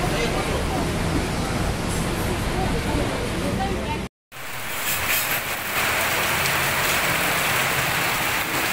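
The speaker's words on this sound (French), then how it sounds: "Une averse tropicale." Heavy tropical rain pours down in the Cameron Highlands mountain town of Tanah Rata, a dense, loud, continuous roar of drops on surfaces, briefly cut off in the middle before resuming.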